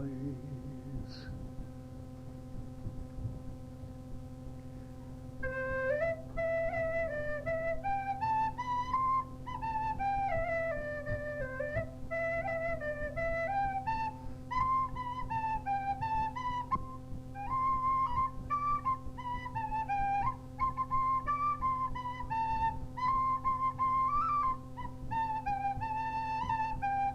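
A tin whistle or flute plays a lively folk tune with ornamented runs for about twenty seconds, heard alone after a brief quiet start over a low steady hum.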